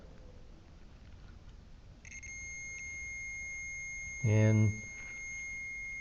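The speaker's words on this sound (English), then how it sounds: "hear that beeping noise? That means there's continuity." A continuity tester beeps on a landscape lighting wire: a steady high electronic tone runs through the second half, with a brief louder burst near the end, under quiet talk.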